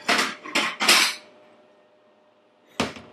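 A pastel china plate is handled in a kitchen, with three quick clattering ceramic knocks close together, a short quiet gap, then one more sharp clink, close and fairly loud with no talking.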